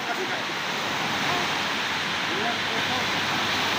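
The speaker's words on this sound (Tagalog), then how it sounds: "ang lakas ng alon" Strong sea waves at Infanta, Quezon, a continuous wash of surf noise heard at moderate level, with voices faintly present underneath.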